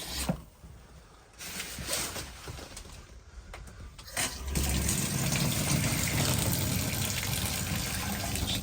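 Antifreeze runs from a bathroom hot-water faucet in a camper being winterized, as the water pump draws it through the lines; a steady, loud gush of liquid that swells in strength halfway through.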